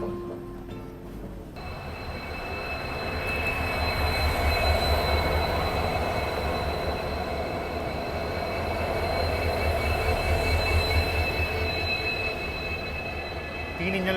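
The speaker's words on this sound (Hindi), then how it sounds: "तो ये अराइवल हो रहा है कैसल रॉक रेलवे स्टेशन पे।" A train rolls into Castle Rock railway station on the Goa to Londa line near Dudhsagar, a steady near rumble of wheels and wagons with a squealing ring, sustained throughout with no talk.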